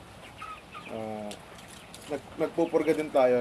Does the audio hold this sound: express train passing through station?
no